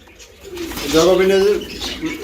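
Jacobin and racer pigeons in a loft, one giving a loud, close rolling coo that swells and fades over about a second, with a voice nearby.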